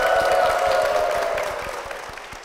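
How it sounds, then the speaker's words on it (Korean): Clapping rises from an audience on a church broadcast program, a run of distinct claps under a brief tonal voice that slowly softens. "박수 부탁드립니다."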